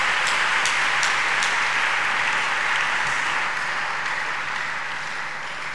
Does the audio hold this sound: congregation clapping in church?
yes